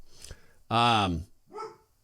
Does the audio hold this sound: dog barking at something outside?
yes